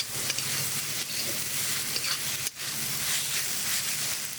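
Pre-fried potato sautéing in a pan for banana flower mochar ghonto, a steady close sizzle with faint stirring scrapes throughout and one brief dip midway.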